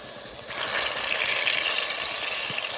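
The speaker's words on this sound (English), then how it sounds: "it's always good to use a stainless steel pan when you're frying such things like plantains, chicken" Sweet ripe plantain slices frying in hot oil in a stainless steel pan, a steady, fairly loud bubbling sizzle that swells after a brief softer start and continues without talk.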